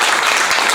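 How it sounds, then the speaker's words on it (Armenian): Audience at Tavush music event applauding, a brief loud burst of dense clapping, close and continuous. "Նախ ուզում եմ Մավին առանձնահատուկ ծափահարեք,"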